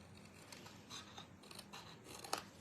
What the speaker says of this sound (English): So what we're going to do then is cut it out. So again, using just the snips.